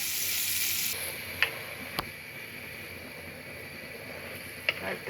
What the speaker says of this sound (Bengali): বাগার দেওয়ার জন্য অন্য চুলে আমি পেঁয়াজ ভেজে নিচ্ছি